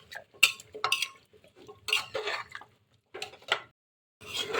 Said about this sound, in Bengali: কচুগুলো দেওয়ার পর একটু নেড়ে চেড়ে নেব। মাংসের সাথে ভালোভাবে মিশিয়ে নেব।